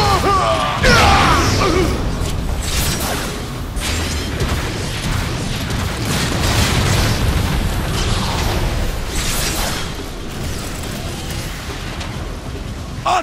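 Explosions from shelling in the Transformers: Fall of Cybertron video game, with repeated loud booms, crashes and mechanical clatter in a dense, continuous battle mix.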